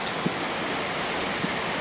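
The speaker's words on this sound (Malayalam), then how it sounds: "മഴ ഉറച്ചിരിക്കുന്നു." Heavy rain falls steadily during a monsoon downpour at Amboori, a broad even hiss of drops on surfaces with a couple of faint knocks, continuous throughout with no talk.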